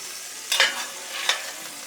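Flour-coated beef pieces fry in a pan, with a steady broadband sizzle and two louder bursts of spitting as the meat is moved or stirred, close up and alone.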